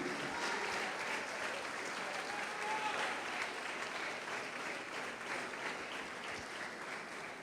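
A church congregation applauds during a worship service, a sustained, even wash of many hands clapping from a crowd, with no pauses.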